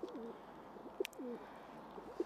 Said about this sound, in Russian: Голубь тут примастился.